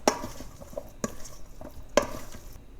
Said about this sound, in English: I'm going to mix all the spices so that they coat the cauliflower.